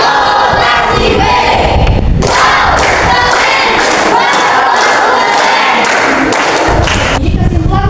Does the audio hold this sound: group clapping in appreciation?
yes